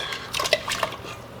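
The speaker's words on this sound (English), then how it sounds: "in my pressure cooker I have about 6 cups of water, and I'm going to go ahead and add the pigtails" Soaked pigtails go into water in a pressure cooker, with a few close clinks and knocks against the metal pot and light splashes in a short burst, no talking.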